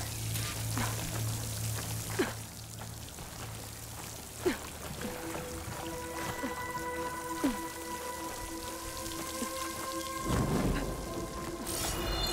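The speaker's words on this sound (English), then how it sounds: "Where's this water coming from?" Flowing water and a waterfall rush steadily in Horizon Forbidden West, a broad continuous wash with occasional splashy bursts, overlaid by sustained tonal game music partway through, no talk.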